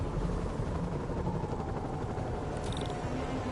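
Helicopters fly over the city in Spider-Man (2018), a steady, dense rotor roar filling the scene continuously at close range with no gaps.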